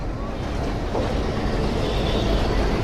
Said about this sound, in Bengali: এই যে দেখতেছেন ট্রেনটা চলে আসছে